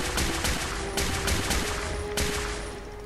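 Video game weapon fire in Fallout 4, a rapid string of sharp gunshots in uneven bursts over a steady background hum, loud and close, with no talking.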